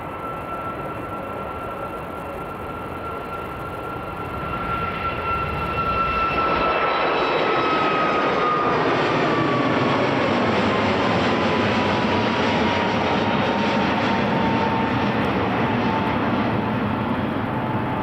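A Ryanair jet departing Edinburgh Airport, its engine roar building from a steady rumble into a loud, sustained broadband thrust with a rising whine, close and continuous with no talk.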